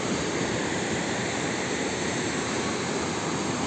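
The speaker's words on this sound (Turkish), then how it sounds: "Bu dere de dar ve şiddetli yani." A narrow, fast-flowing creek used for rafting rushes in a dense, steady roar of turbulent water, loud and close throughout with no voices.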